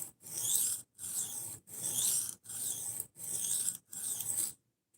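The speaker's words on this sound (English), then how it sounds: "we're sharpening a butter knife" Repeated rasping strokes of a butter knife being sharpened, six steady even passes with brief pauses between, close and fairly loud with no talking.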